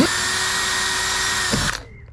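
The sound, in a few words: power drill drilling a small pilot hole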